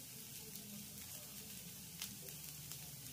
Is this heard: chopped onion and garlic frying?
yes